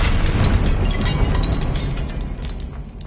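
A Confringo fire-spell explosion in the video game Hogwarts Legacy, a loud, dense blast that roars across the whole clip as a sustained rumbling burst with crackling debris, no talk over it.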